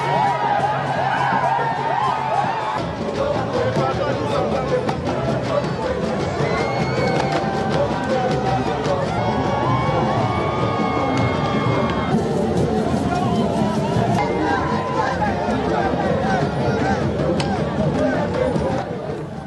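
A large street crowd welcomes the president's motorcade from Pointe-Noire airport, with continuous loud hubbub, cheering and chatter, plus bursts of rhythmic music and voices throughout.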